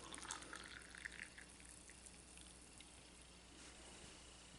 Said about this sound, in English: First we're going to add 6 ounces of hot water.